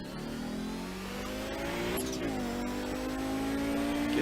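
A race car on the back stretch of the Grand West Endurance Race, Targa Virginia, accelerates hard with a rising, steady engine drone that shifts pitch midway, loud and continuous throughout.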